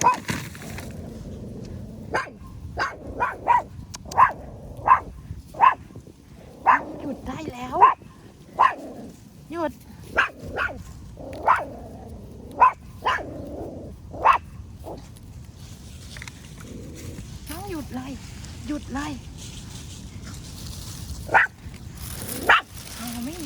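Outdoors while shaggy mane mushrooms are picked, a dog barks again and again in loud, sharp bursts, some in rapid strings, others spaced apart, nearby over soft background noise, before quieting toward the end.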